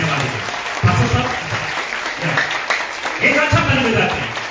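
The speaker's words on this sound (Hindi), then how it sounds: "अच्छा ताली बजाते हुए परमेश्वर को धन्यवाद देते हैं।" Congregation applause giving thanks to God at a Christmas meeting in a Delhi church, a continuous wash of clapping hands under a voice speaking over it.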